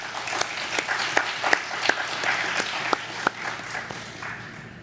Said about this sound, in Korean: 박수로 보내주시기 바랍니다